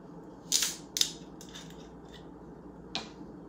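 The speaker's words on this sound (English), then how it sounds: "let's crack this open" A green bottle of Presidente beer is opened in a quiet room. Two crisp clicks come close together, followed moments later by a single softer snap.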